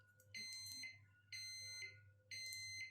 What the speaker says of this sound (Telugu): టైమర్ అనేది అయిపోయిన తర్వాత బీప్ సౌండ్ అనేది వస్తుంది